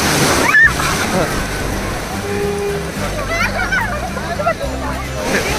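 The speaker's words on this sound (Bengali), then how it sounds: "এই বহুত বড় একটা ঢেউ" Big sea wave at the beach in Puri, a loud rushing surf with splashing and sloshing water, close and continuous under excited talking voices.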